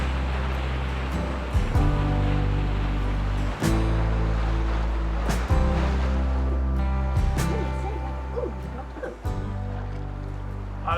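Waves wash and slap against a sailboat hull beneath the Öresund bridge, a steady rushing surge with periodic heavier thumps, wind noise over the microphone throughout.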